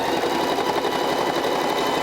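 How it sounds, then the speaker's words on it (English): A sewing machine runs steadily while back stitching and forward stitching fabric, a close, even, rapid mechanical whir and chatter with no voices over it. "we're gonna back stitch a little bit, forward stitch a little bit, then that's it"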